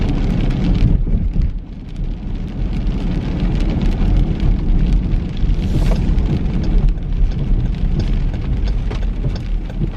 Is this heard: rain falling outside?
yes